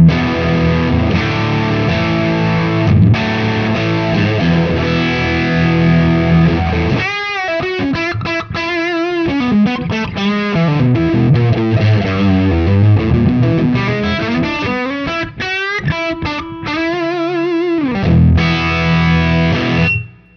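An electric guitar played through an overdrive pedal with its diodes switched to hard clipping gives a loud, sustained, gritty distorted tone, with strummed chords followed by a run of single-note lines and then more chords.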